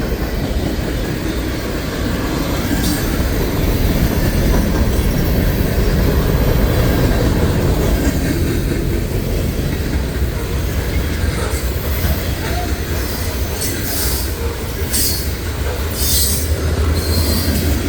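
Loaded freight cars of a manifest train roll steadily past close by, a continuous loud rumble with screeching wheel squeals and scattered clanks, no voices.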